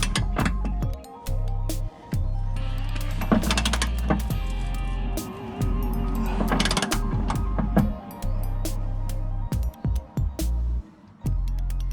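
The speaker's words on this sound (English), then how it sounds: "I'm tightening it up with a much larger socket wrench just to get them tight" Large socket wrench ratcheting bolts tight on a turbo Volkswagen Beetle under restoration, rapid bursts of close, sharp metallic clicks separated by short pauses, with no talking.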